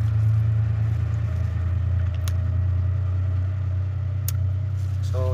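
A dump truck engine idles nearby in a steady, loud low rumble that holds unbroken throughout, with a couple of faint clicks over it and no voices.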